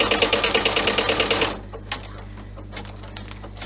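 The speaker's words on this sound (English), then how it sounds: "And now it will stitch the placement for the other corner." A sewing machine stitches the corner of a handmade bow purse, a rapid, close, steady mechanical chatter for about a second and a half before it stops, leaving faint clicks and handling noise.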